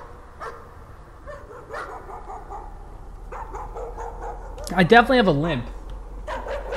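A dog whimpering and barking in the horror game Layers of Fear, with a strained howling burst in the middle, heard under someone talking.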